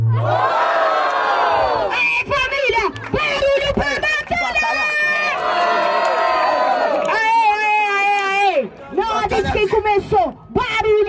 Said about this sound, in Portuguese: Começou barulhos e barulhos para Cairo!